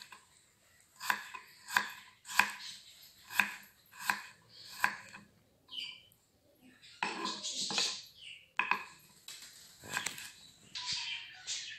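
Carrots are chopped into small pieces on a board with a knife, about a dozen crisp, evenly spaced cuts that turn into a quicker, denser run of chopping near the end, close and clear.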